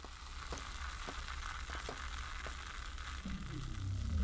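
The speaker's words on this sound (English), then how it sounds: "Why does it sound like bacon?" Sizzling, bacon-like frying noise in the System Shock video game, a faint, continuous crackle with scattered pops and a low hum beneath, no voices.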